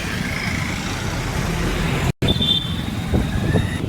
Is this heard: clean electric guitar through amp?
no